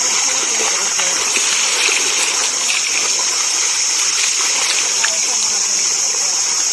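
Water splashes and gushes steadily in a cold stream where people are bathing, a constant broadband rush close to the microphone, with voices and chatter mixed in.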